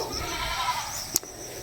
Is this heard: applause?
no